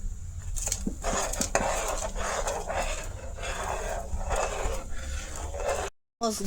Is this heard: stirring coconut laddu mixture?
yes